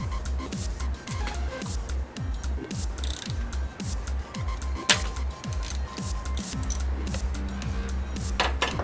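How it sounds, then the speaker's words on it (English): A ratchet fitted with a 10 millimeter socket works an alternator bolt on a 2006 Scion tC, giving a steady run of close, regular clicks with faint metallic clinks and no talk. "This one right here takes a 10 millimeter socket."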